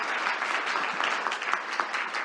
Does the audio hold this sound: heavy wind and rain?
no